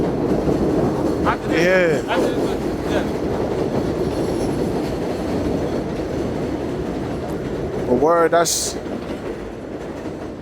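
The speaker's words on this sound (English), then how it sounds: "the sounds of the train, man. We really outside." A train passes close by outside in New York with a loud, continuous rumble and clatter of wheels. High wheel squeals break through twice, and someone talks briefly over the noise.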